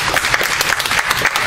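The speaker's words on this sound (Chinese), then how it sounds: "给他一个掌声好吗" An audience at a Chinese-language speech club meeting breaks into steady, dense clapping, loud and continuous throughout.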